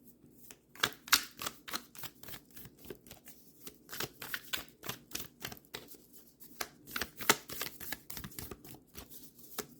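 Tarot clarification cards are shuffled by hand in a quiet room, giving quick, irregular bursts of papery riffling and flicking that repeat steadily throughout, close and fairly soft.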